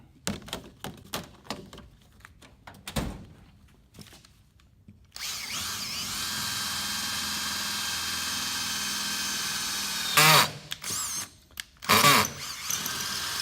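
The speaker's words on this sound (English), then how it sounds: "I've got the clutch set on this drill, so it's gonna, when it goes through the metal" An electric drill whirs in short bursts while boring through metal, then runs steadily, with a couple of louder grinding surges near the end, close up with no talking.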